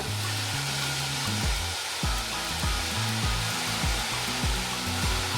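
Long beans and cabbage fry in a hot pan with a loud, continuous hissing sizzle right up close, while repeated stirring scrapes cut through in a regular rhythm.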